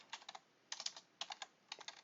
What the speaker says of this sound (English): And then I'm going to type the name of this program.